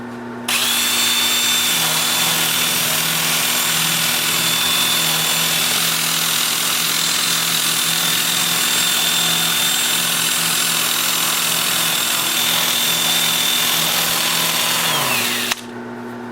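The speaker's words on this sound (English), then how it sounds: "I'll switch to my 2-inch disc starting at 80 grit, working up through 400 on all the turn parts" A power drill spins a 2-inch sanding disc against a turned hazelnut wood bowl, giving a loud, steady whine with a hissing abrasive rasp that runs continuously for about fifteen seconds and then spins down.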